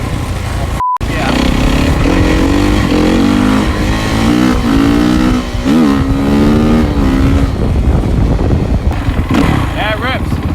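A 2008 dirt bike engine revs hard during a short test ride, its loud rising and falling buzz swelling and dipping through repeated throttle blips, with a voice speaking briefly over the engine noise.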